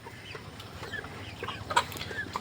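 Broiler chickens on a poultry farm cluck softly and intermittently, a faint low flock murmur with a few sharper calls near the end, no voices over it.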